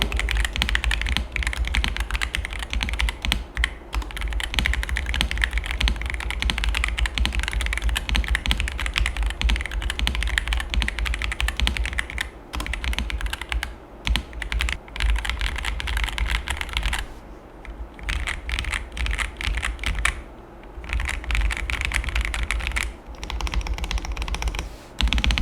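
Continuous rapid typing on a Pressplay Apollo61 Lite gasket-mount mechanical keyboard, close and steady, with dense clacking keystrokes and a few brief pauses.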